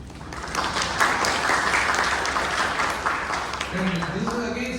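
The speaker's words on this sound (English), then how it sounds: "Again, you can clap for Satya, if not for me." Audience applause fills a speech event, a steady wash of clapping sustained throughout, with a faint voice emerging near the end.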